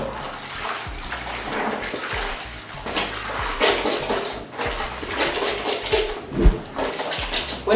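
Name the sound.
hand washing clothes in soapy water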